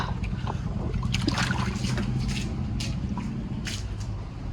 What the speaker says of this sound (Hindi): सुनाई पड़े छे पानी?